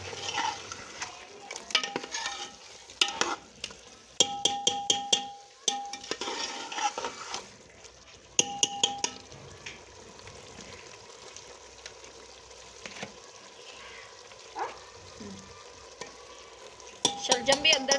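Turnips and meat stirred and fried in ghee with red chilli, turmeric and salt, a steady sizzle under repeated scraping and clinking of a spoon against the pot, with no talking.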